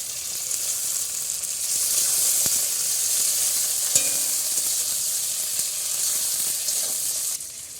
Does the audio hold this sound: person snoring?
no